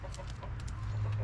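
Wyandotte chickens cluck softly in a coop, short murmuring calls repeating over a steady low hum, close and fairly quiet with no one speaking.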